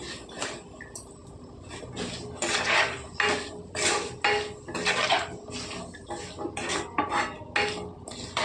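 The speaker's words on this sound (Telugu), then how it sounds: "పసుపు అండి 1 చెంచా అండి, బాగా కలుపుకుందామండి." A metal spoon stirs a mixed vegetable curry with salt and turmeric in a pan, scraping and clanking against the pan in a steady run of loud, close strokes.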